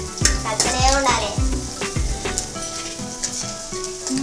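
A Manchurian mixture is stirred in a sizzling pan, with repeated scraping strokes in a steady rhythm over continuous frying, close and fairly loud.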